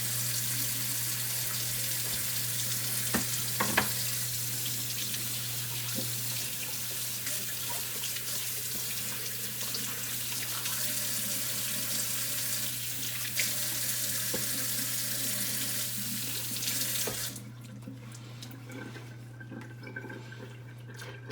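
Running tap water rinses 1000 grit slurry off a knife sharpening stone, a steady close sink splash holding for most of the stretch before it cuts off near the end, leaving quieter room noise.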